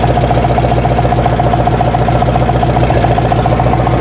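Carbureted Ford F100 pickup engine idling steadily while warming up, a loud, close, even rumble that holds constant throughout with no change in pace.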